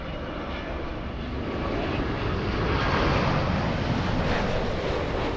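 Lufthansa airliner passing at LAX, a steady broad jet engine roar swelling slightly louder midway, moderately close, with some wind buffeting and no talk.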